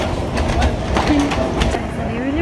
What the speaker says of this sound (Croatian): Sad smo se vozili prvi put sa podzemnom.